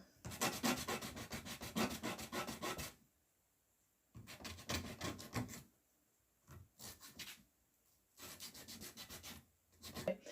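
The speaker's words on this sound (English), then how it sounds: "And then you just want to rub it back and forth. That kind of files down the rugged edges for you." Rough edges are filed down on a carved Akuaba doll figure by rubbing back and forth, giving three bursts of close, scratchy sanding strokes separated by short pauses.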